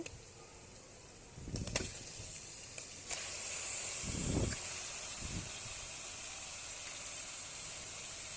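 Chicken pieces dropped into hot oil with onion and chilli in a pressure cooker, giving a soft hiss and crackle that swells in bursts around the middle before settling into a quiet, steady sizzle.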